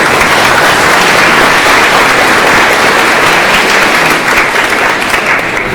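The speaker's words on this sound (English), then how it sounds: "big round of applause for these guys" An audience at a memorial service for the USS Thresher gives a loud, sustained round of applause, a dense continuous wash of many clapping hands close by, holding steady before easing slightly toward the end.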